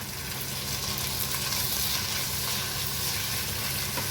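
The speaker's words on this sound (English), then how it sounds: "you take it and start mixing the ginger garlic into the onions" Ginger garlic being stirred into onions frying on a low flame, a steady close sizzle with soft scraping of the mixing throughout, no voices.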